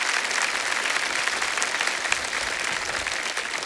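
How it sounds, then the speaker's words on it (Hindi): Dense, loud audience applause on a comedy show, continuous clapping from a large crowd with no pauses. "एक बार जोरदार तालियां"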